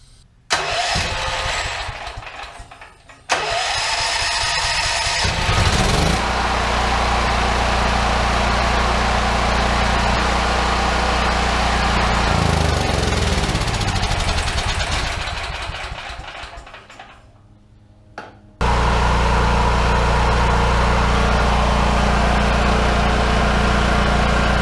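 A large generator running on a small propane kit cranks and catches, then settles into a steady, loud engine drone. The drone dips briefly as the engine bogs, then picks back up and runs evenly to the end.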